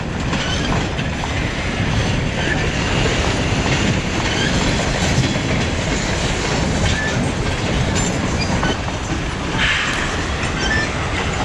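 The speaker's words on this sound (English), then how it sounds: "Long train there backing up." A long freight train backs up slowly in Pennsylvania, a steady rumble with rail clatter and rolling wheel noise, plus occasional faint squeals, continuing evenly throughout without voices.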